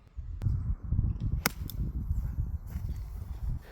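A 5-wood topping a golf ball on a fairway, one sharp crack of the strike followed by outdoor wind rumble, close and without talk.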